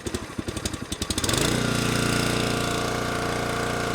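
The petrol engine of a Venom 22-ton road-towable log splitter chugs in slow, uneven idle pulses, then revs up into a loud, steady flat-out drone that holds to the end.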